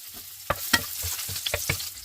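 Chopped garlic frying in a hot wok for fried rice, a continuous crackling sizzle broken by several sharp clinks and scrapes of a spatula, close and fairly loud.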